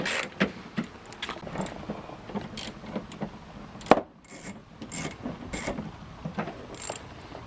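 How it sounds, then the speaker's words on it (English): Bolts being loosened and removed from a headlight on a 2006–2008 Dodge RAM with a 10mm or Torx wrench, close scraping and ratcheting clicks with a sharp metallic snap near the middle, no talking. "you're going to remove those two bolts in here"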